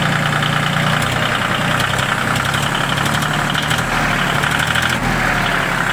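A Yanmar YM2610 mini tractor, fitted with a loader and a rotary tiller, idles steadily close by. Its engine runs with an even, continuous rumble that never changes pace, and no voices are heard.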